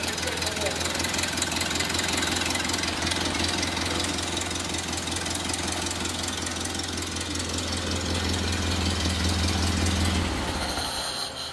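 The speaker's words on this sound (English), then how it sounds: "Let's shut it off and see if it'll crank up again." A Ford Model A engine, left sitting since 1975, runs with a loud, steady idle, knocking rhythmically, then cuts off abruptly near the end, with people talking faintly beneath.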